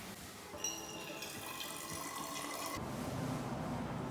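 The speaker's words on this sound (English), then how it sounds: "We're going to go fill up some of our water bottles just to say that we did it." Water runs steadily from a spring water fountain in Strasbourg, France, as bottles are filled, a continuous close splashing stream that shifts in tone partway through as the bottle fills.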